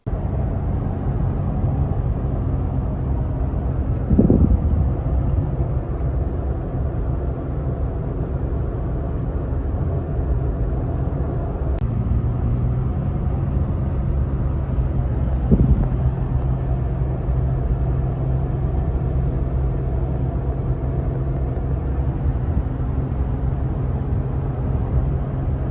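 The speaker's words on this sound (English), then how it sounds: "here's a couple dash shots of how the truck runs on some relatively flat freeway" A Toyota Tacoma pickup towing a trailer on a relatively flat freeway, heard from inside the cab as a steady low engine and road drone, with a couple of faint thumps and no talking.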